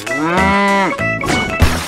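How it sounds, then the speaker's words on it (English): A cow moos loudly and close in a long, drawn-out tonal call, followed by a shorter lower grunt and a brief thump, with no voices over it. "Cow."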